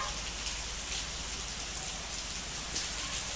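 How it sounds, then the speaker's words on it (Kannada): Heavy rain pours outdoors in a steady, dense hiss of drops striking surfaces, loud and continuous throughout with no voices. "ಕೇಳಿಸ್ಕೊತಾ ಇರ್ಬೋದು ನೀವು ಎಷ್ಟು ಜೋರಾಗಿ ಮಳೆ ಬರ್ತಾ ಇದೆ ಅಂತ"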